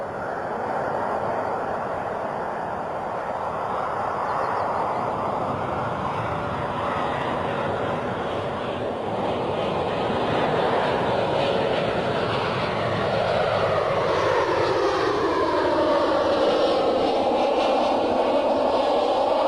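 A Jet2 Boeing 737-800 landing at Bristol Airport makes a steady, broad jet roar that builds slightly and shifts in pitch as the aircraft passes and touches down, heard from a distance with no talk.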